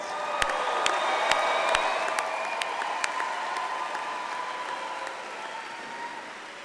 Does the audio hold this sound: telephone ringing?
no